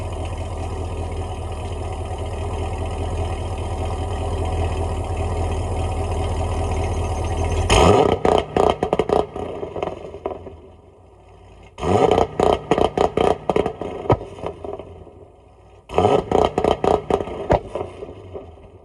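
A C6 Corvette with a 2-step launch controller holds a steady engine drone for several seconds, then breaks into three bursts of rapid popping and crackling as the limiter cuts in, with short quieter gaps between bursts.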